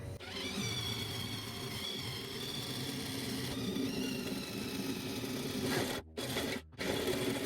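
Step drill bit boring through a metal bracket on a container office, a steady, loud grinding whine with harmonic tones that holds for about six seconds, then breaks off in two brief stops.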